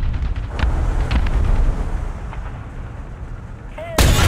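A T-44 tank's main cannon in War Thunder fires several heavy booming shots with rumbling decay, followed by a sharp loud blast near the end.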